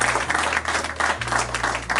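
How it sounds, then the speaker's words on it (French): Audience applause at a press conference for the 41st Vues d'Afrique international film festival, a steady wash of clapping from a roomful of people that runs through the whole stretch with a low hum beneath it. "Et là, bien sûr, on peut applaudir parce que c'est presque la fin."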